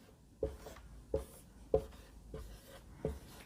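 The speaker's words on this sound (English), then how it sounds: "So I write like this to divide" A long division is handwritten on paper: five short, faint scratching strokes spaced at a steady pace, heard close up in a quiet room with no speech.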